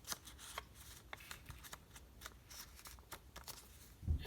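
Paper pages of a handmade pop-up book are folded back down, giving a series of crisp rustles, creases and taps close to the microphone, with a soft thump at the end.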